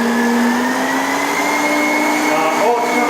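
An electric mixer whipping egg whites for pavlova whirs at full speed nonstop and loud up close, its pitch climbing slightly as it runs.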